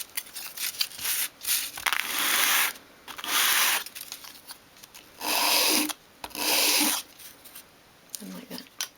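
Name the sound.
sanding edges of a small wooden piece on sandpaper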